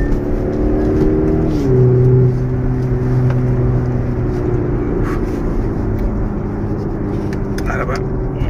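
An Audi SQ5 quattro 2020 with a 3.0-litre V6 mild-hybrid diesel engine, driven fast, gives a steady loud engine drone and rising tone with road and wind roar, while people talk over it throughout.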